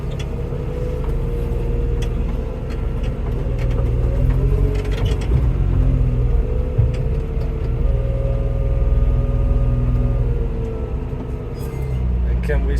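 A truck engine rumbles and idles as the vehicle creeps slowly up onto a weighing scale, a steady close low drone with some level changes, while people talk over it.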